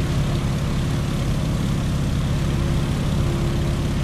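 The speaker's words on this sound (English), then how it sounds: "It's a nice docile airplane with an open cockpit that lets you really enjoy the scenery." The radial engine of a Stearman open-cockpit biplane drones steadily and loud throughout in Microsoft Flight, a continuous propeller roar with no voices.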